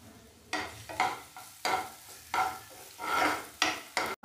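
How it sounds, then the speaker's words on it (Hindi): Finely chopped garlic and ginger fry in hot oil while a spoon stirs in short, irregular scraping bursts over a quiet sizzle, close and fairly faint, during preparation of a traditional Rajasthani maize-flour dish. "अब डालेंगे इसमें अदरक और लहसुन, जिसको हमने बारीक बारीक कल चॉप कर लिया था, और लहसुन अदरक को हम फ्राई कर लेंगे।"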